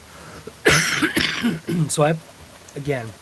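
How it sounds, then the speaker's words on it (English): A man coughs and clears his throat several times in short harsh bursts during a live stream from an RC car repair garage, with his own talking in between. "So I'm sorry I'm coughing."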